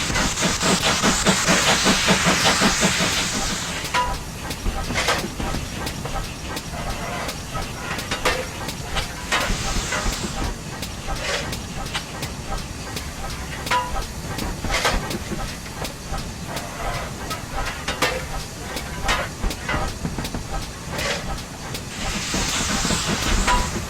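A GWR Small Prairie steam locomotive in Train Simulator 2015 on the Western Lines of Scotland vents loud bursts of hissing steam at the start and end, with rhythmic wheel clatter and chuffing running in between.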